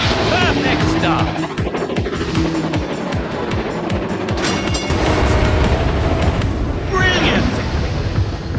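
Train engine start-up and racing sounds in the Thomas & Friends: Go Go Thomas video game: a loud, continuous roaring engine rush with squealing, skidding textures and whooshing passes, steady and dense throughout.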